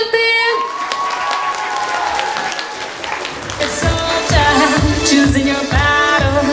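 Applause and cheering from parents and guests at a primary-school graduation, loud and close, with music and voices mixed in and steady clapping through the second half.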